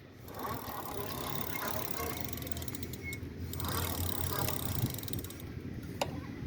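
An electric bicycle hub motor spins when the throttle is pressed, a steady low mechanical whir with faint ticking clicks running for several seconds at close range.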